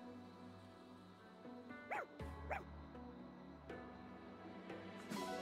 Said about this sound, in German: Ich sehe einen Hund.